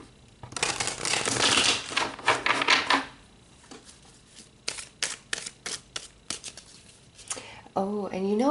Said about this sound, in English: I want to pull a few more cards for you guys.